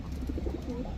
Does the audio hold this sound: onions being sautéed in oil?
no